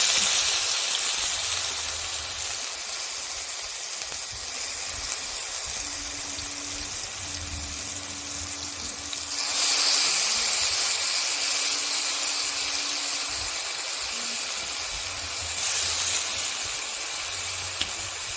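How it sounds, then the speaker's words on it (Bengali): Mushrooms with salt and turmeric frying in a wok, a steady broadband hiss and steamy sizzle running throughout, fairly loud and continuous with slight swells, no talking. "আমি এবার এটাকে ভালোভাবে ভেজে নেব"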